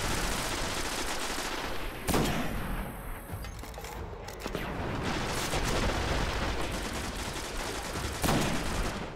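Rifle gunfire in the video game Destiny, with sharp shots standing out at intervals over a dense, continuous bed of game noise and effects.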